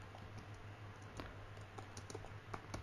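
Quiet, irregular clicking of keys on a computer keyboard while a Python program is written, the taps soft and uneven over a faint steady background hum.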